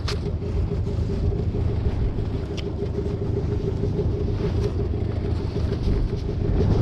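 A motor vehicle's engine idles right after starting on a cold day before a fishing trip, a loud, continuous low rumble that holds steady throughout, close up.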